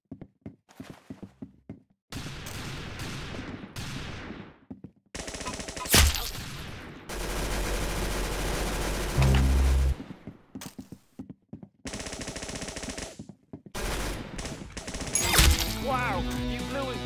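Bursts of video game gunfire, rapid machine-gun volleys and single shots in loud, choppy segments separated by brief pauses, with music-like tones and other game effects mixed in.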